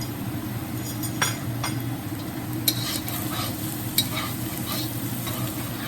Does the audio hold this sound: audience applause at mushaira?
no